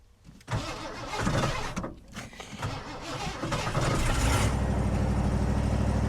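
An '85 Ford Bronco snow plow engine cranking and catching, sputtering unevenly before settling into a rough, steady idle, close and loud.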